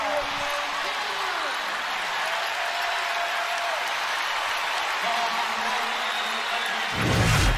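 A basketball arena crowd roars and applauds during a Timberwolves vs Grizzlies playoff game, a dense, sustained wall of cheering with clapping throughout while a commentator talks over it, swelling louder at the very end.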